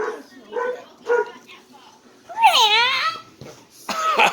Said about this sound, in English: We got a bad dog.